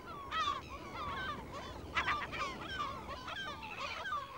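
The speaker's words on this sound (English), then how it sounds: "a third gull species, the Dominican gull, very similar to the familiar blackback of the northern hemisphere" Dominican gulls, also known as kelp gulls, give a series of harsh, honking calls around Rotorua, New Zealand, several overlapping cries in quick bursts against a low background rumble.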